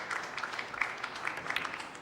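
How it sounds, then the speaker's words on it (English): A faint, scattered patter of applause drifts in from a neighbouring table in a quiet pool championship hall, thin and uneven, lasting only a couple of seconds. "a little smattering of applause from table 2"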